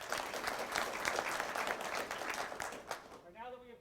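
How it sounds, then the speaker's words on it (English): Audience applause at a class graduation ceremony, steady dense clapping from a roomful of people that holds for about three seconds, then cuts off into a brief spoken voice. "All right, give them a round of applause."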